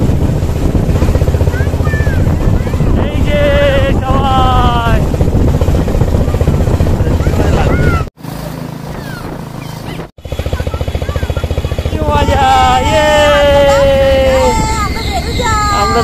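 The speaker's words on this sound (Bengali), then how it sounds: "আমরা ইঞ্জিন ভ্যানে করে চাকলা যাচ্ছি।" Loud, chugging motor of an engine van carrying passengers along the road toward Chakla, a steady mechanical drone running throughout with a short dip midway and people talking over it.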